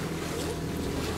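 A motor boat runs at sea near Balaklava, its low engine rumble mixed with heavy wind buffeting and water noise, steady and brief.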